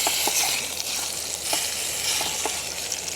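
Bacon frying in a titanium mess tin, a close, continuous sizzle with faint crackles and occasional soft clicks, no talking.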